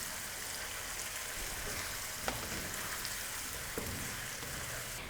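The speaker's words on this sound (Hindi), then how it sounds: "तमाम मसाले डालने के बाद अब हम इसको फ्राई करेंगे।" Potatoes with spices and lemon juice fry in a pan for aloo bhujia, giving a steady, dense sizzle and crackle throughout with a couple of faint clicks of a utensil.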